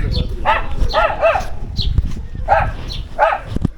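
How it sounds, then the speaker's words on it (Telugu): Small dogs barking at a hill stay near Kodaikanal, several sharp yaps in uneven bursts fairly close by, over a low background rumble. "కానీ ఇక్కడ ప్రతి స్టేలో డాగ్స్, అట్లా డాగ్స్ ఉన్నాయి, చిన్న చిన్న డాగ్స్."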